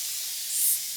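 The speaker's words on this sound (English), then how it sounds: "keep pressing, it just continues to release like an aerosol" A continuous water mist spray bottle releasing a fine mist, a steady soft hiss that swells briefly midway through the single second, close and alone.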